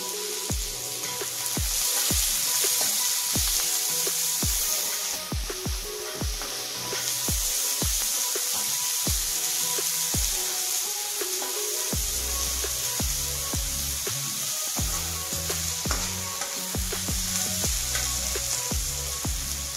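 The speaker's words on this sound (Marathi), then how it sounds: "कांदा 2 मिनिटं थोडासा ब्राऊन होईपर्यंत भाजायचा आहे" Chopped onion and green chili fry in a pan, a steady dense sizzle with crackles and occasional utensil clinks, continuous and close with no talking.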